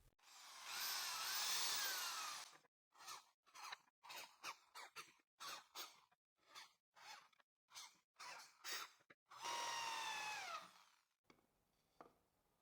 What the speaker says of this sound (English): now the drilling will be done at these points using this 3mm drill bit